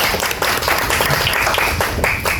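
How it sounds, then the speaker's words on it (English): Dense crowd applause for Neeraj at an Indian national anthem launch event, a steady wash of many hands clapping loudly and close, with no talk over it. "Big round of applause for Neeraj"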